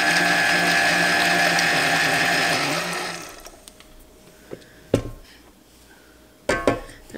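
Electric stand mixer churning a doubled batch of batter, a loud continuous motor whir for about three seconds that then cuts off, followed by a few sharp knocks and clatters close by.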